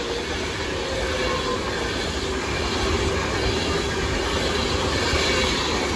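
Avanti West Coast Pendolino class 390 electric train passing through Stafford station, a loud, steady rushing rumble of wheels on rails with faint rhythmic clatter, close by and continuous, without speech.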